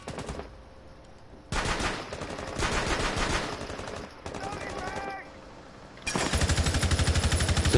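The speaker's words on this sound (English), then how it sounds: "Sophia already get engaged in a gunfight with the Mozzie." Automatic gunfire during a gunfight in Rainbow Six Siege, rapid bursts that start, stop and resume in separate volleys, the last one loud and sustained, with a commentator talking between the shots.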